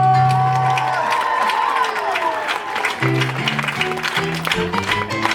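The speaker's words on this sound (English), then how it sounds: "And let's hear it for Sir Samuel of Morocco!" At a Tangled stage show in Disneyland's Fantasy Faire, the crowd claps and cheers for Sir Samuel of Morocco, with brisk applause, whoops and children's shouts continuing over upbeat orchestral music with punchy chords.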